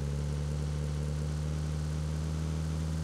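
Boat engine in the mobile battle royale game BGMI, a steady low droning hum with a constant pitch that continues unbroken throughout, heard alone at moderate volume.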